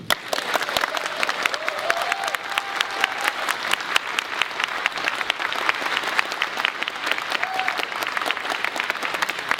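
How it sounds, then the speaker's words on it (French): Sustained applause from an evening audience at a cinema tribute event in France, dense steady clapping from many hands continuing throughout at a fairly loud level. "je vous demande de lui faire un tonnerre d'applaudissements"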